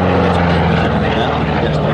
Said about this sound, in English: coming round again for another pass, the P-47D Thunderbolt